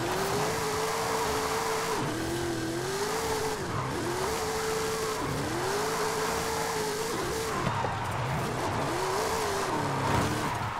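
A stock Toyota Tacoma TRD drifts on a road, its engine loud and steady with the pitch swinging up and down as it revs, while the tires squeal continuously through the slides.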